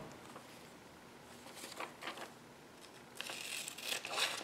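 A few short crisp snips and crinkles of scissors cutting through paper, close by, followed by a longer rustling cut near the end.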